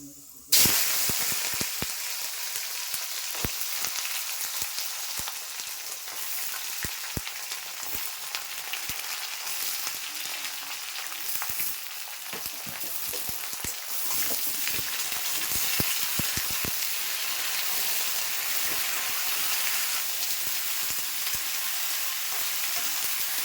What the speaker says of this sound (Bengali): গরম হয়ে তেল গরম হয়ে গেছে আমি এখন পাঁচ ফোড়ন দিচ্ছি পাঁচ তো একটু লাল লাল হোক এবার সবজিগুলি ছাড়ছি